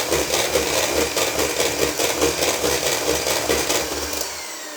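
An electric mixer or blender whirs steadily while blending milk and cream for an apricot pie topping, a loud even drone with slight pulsing that tapers off at the end.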